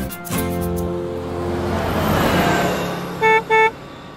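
A bus horn gives two short, loud honks in quick succession near the end, following a stretch of engine and road noise with music fading out.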